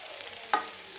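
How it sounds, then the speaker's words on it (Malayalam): Macaroni drops into a pan with sauce and is stirred, giving a faint, soft sizzle and one brief wet scrape midway, close and quiet with no voices. "ഇതിലേക്ക് മക്രോണി ഇട്ട് കൊടുക്കുക."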